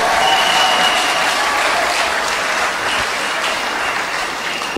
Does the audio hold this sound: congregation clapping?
yes